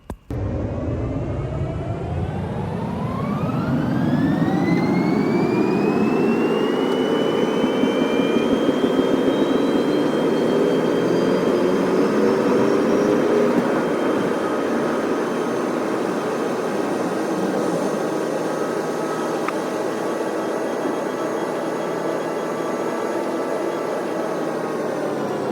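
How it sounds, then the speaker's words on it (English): Jet engines of a Singapore Airlines Boeing 787 spool up for takeoff, a rising whine and roar heard from inside the cabin that settles into a steady loud drone. "Shortly, we made our way to the runway and began our takeoff."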